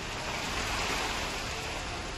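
Heavy monsoon rain pours down in Valsad, Gujarat, where streets are waterlogged, making a dense, unbroken hiss of rainfall that holds steady throughout with no voices.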